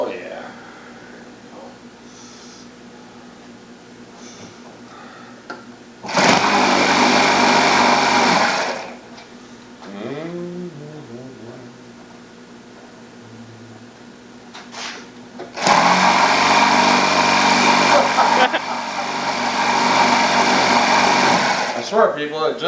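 A small engine is throttled up in two loud high-pitched bursts of revving, dropping back to a quieter idle between them, with a voice speaking in the gaps.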